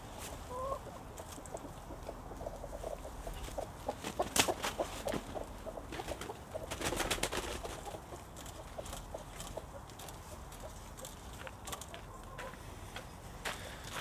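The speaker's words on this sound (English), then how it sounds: "So I'm gonna move these chickens." Hens clucking in a backyard chicken flock, a continuous busy chorus of soft clucks and scratchy rustling with occasional sharper calls, fairly close and unbroken.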